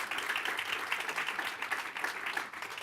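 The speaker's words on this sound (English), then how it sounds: "Please can we have a round of applause for these judges." Steady applause from an audience at a pitch session, many hands clapping at an even level throughout with no talking over it.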